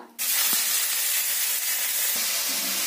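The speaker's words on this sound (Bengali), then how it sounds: "তেলটা গরম হয়ে গিয়েছে, এতে দিয়ে দিতে হবে পেঁয়াজ বাটা" Onion paste hits hot mustard oil in a pan with a sudden loud, sustained sizzle and hiss that continues steadily to the end, broken only by a couple of faint knocks.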